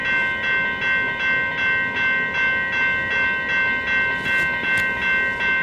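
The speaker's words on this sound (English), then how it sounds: "This train going to Saint Jerome." A Montreal commuter train bound for Saint-Jérôme passes with a steady rhythmic clatter of wheels over rail joints, beating at regular intervals under a sustained ringing tone, loud and near.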